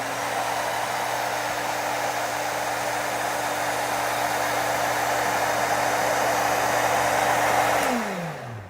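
A blower runs at a steady, loud whoosh with a constant hum underneath, then spins down as it is switched off at the end.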